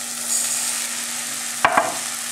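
Oil sizzles steadily in a pan as rice is stirred into sofrito to toast for oven-baked yellow rice, with a couple of brief scraping stirs standing out near the end.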